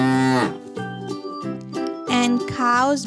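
A cow moos several times in a row, long low drawn-out calls with a rising and falling pitch, loud and close, with no talk over them.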